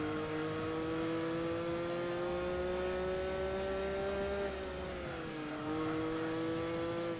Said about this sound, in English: It sounds like a French V6.